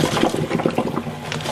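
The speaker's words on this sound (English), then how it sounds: "And I'm just gonna drain it." Boiled rice water pours out of a pan as it is drained, a steady broadband rush of liquid lasting about a second and a half, close and fairly loud with no talk.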